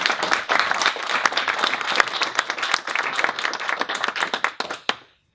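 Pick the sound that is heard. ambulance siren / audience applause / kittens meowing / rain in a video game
audience applause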